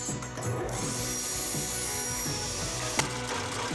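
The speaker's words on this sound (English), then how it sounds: "We cut our plywood," A saw cuts through plywood for a wooden box lid, making steady rasping strokes with a rhythmic back-and-forth texture and a small sharp tick near the end.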